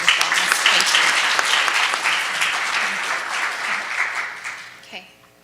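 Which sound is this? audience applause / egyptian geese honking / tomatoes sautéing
audience applause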